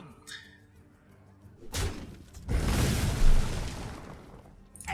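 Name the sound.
explosion effect in video game Hearthstone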